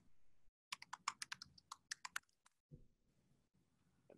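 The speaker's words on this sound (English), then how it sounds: "I'm typing it now." Typing on a computer keyboard, a quick burst of about a dozen close, crisp key clicks, then a pause and a few softer thuds in a quiet room.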